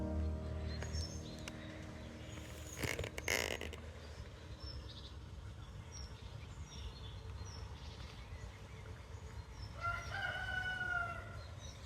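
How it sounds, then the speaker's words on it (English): A rooster crows in the distance in a garden, a drawn-out call near the end, with a brief clatter earlier and soft outdoor background noise throughout. "Oh, there's the cockerel."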